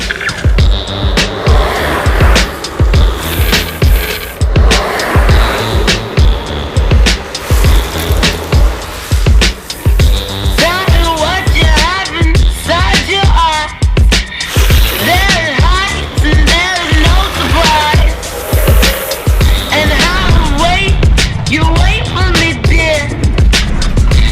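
Urethane longboard wheels sliding across road pavement in smooth, sustained stand-up slides, a loud continuous roar and hiss from close by that repeatedly swells, with faint talk mixed in.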